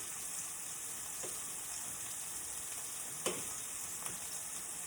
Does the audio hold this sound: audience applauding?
no